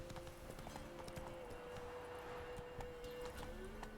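Roach the horse's hooves clip-clopping in a Witcher video game, a quick steady run of faint hoof beats with a low background tone throughout.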